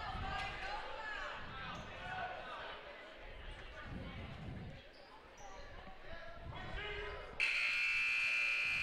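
A basketball game plays out with sneakers, bouncing balls and crowd noise under an announcer's commentary, then a loud, sustained end-of-period buzzer blares for the last second and a half.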